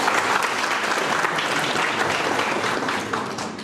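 Sustained applause from a crowd at a Thai business cooperation agreement signing ceremony, dense and steady throughout, tapering slightly near the end.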